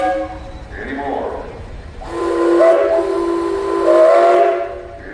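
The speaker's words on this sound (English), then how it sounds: "And you got a whistle up there, Pat." A steam whistle on a steam traction engine at a parade sounds in two loud, sustained blasts, the first shorter and hissier, the second long and steady, outdoors with crowd noise.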